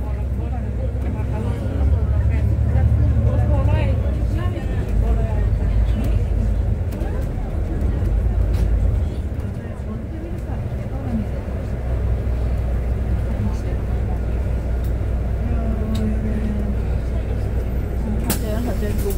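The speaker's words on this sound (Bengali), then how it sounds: "সাফকো বাস স্ট্যান্ডে এনে থামাচ্ছে বাসটা।" A shuttle bus running between a Makkah hotel and Al Haram rumbles in and slows to a stop at the SAPTCO bus stand, with a steady low engine drone, road noise and people talking throughout.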